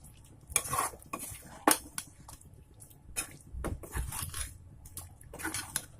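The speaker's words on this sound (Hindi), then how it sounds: "अभी इसको मिक्स कर देंगे थोड़ा" Chicken curry is mixed in a pot, with a spoon scraping and clinking against the metal in scattered bursts, soft stirring and faint sizzle between strokes, fairly quiet and close.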